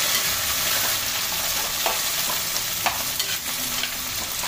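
Tomato, onion and mint fry in groundnut oil for a spicy chicken gravy, giving a dense continuous sizzle with a few light spoon taps and scrapes.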